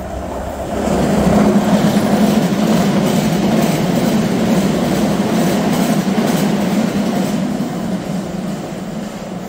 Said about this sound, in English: Piccadilly line services pass through the middle.